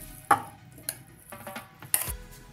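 Ground chicken mince is scraped out of a mixer grinder jar into a bowl with a spoon, giving a few clinking metal knocks and soft scraping sounds in a quiet kitchen.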